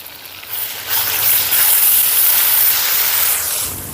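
Ginger garlic paste fries hard in a hot pan, a loud continuous hiss and sizzle that swells after the first second and holds steady close up, with no talking.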